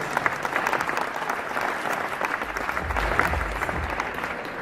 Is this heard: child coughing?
no